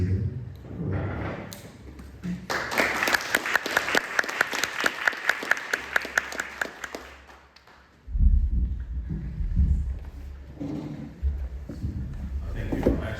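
Audience applause greets a retired physician taking the stage at a conference, a dense wash of clapping that swells for several seconds, then fades as his voice and low room rumble take over.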